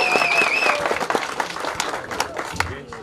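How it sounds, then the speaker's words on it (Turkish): Scattered clapping from spectators at a Turkish horseback archery championship, uneven and moderately loud, with a whistle-like tone early and some background voices. "Kuvvet alkışlarınızı rica ediyoruz"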